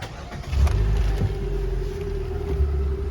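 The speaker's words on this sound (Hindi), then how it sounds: "गाड़ी स्टार्ट कर रहे हैं।" A Hyundai Venue car engine starting up, a low rumbling idle that catches and settles into a steady hum, fairly close and with no one talking.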